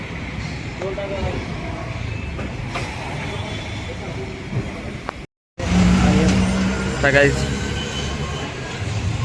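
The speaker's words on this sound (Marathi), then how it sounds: "भावाने काढतो आता बाहेर गाडी. काढली भावाने बघा गाडी बाहेर." A Royal Enfield motorcycle is wheeled out with its engine running, a steady low rumble under people talking nearby, with a brief dropout midway.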